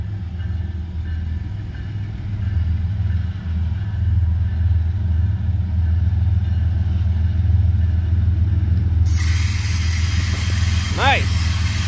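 CSX freight Q452 with BNSF locomotives passes near West Palm Beach Station, a loud, steady low diesel rumble throughout, joined near the end by a hiss and a rising tonal squeal.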